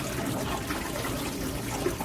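Water rushes fast through an aquaponics sieve filter, a steady close splashing flow that holds even throughout with no pauses.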